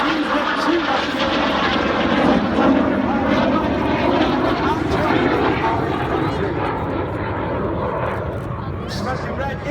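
RAF Red Arrows display jets roar through an airshow routine at Duxford's 50th anniversary show, trailing smoke, a loud continuous engine rumble that swells and fades slightly as the aircraft pass.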